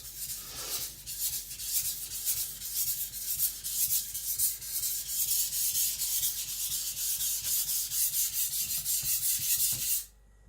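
An IKEA Chinese cleaver is drawn across a whetstone in steady, rhythmic back-and-forth strokes, close and continuous for about ten seconds before stopping abruptly.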